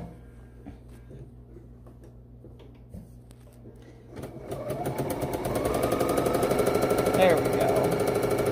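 A sewing machine stitches down the side of a piece of fabric, starting quietly and then running steadily and loudly with a fast, even whirr that builds over the second half.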